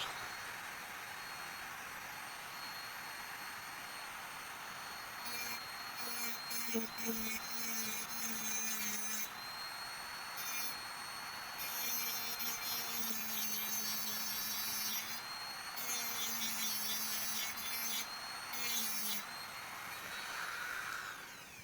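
Micro grinder rotary tool cutting a groove beside the posts of a soldered chip slot during a repair, a steady high whine in intermittent bursts, moderately close and without talk.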